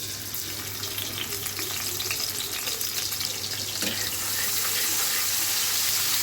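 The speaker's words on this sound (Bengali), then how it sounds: "একটু ভেজে নেব হালকা করে" Chopped onion frying lightly in oil in a pan for a hilsa fish head mash, with a steady, hissing sizzle close by that swells slightly toward the end, with no voices.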